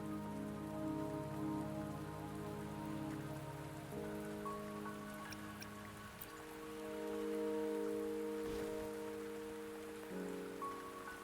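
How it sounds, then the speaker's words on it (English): Rain falls in a video game scene, a continuous soft hiss beneath sustained, shifting musical tones, with no voices. "Don't worry, the rain won't last much longer."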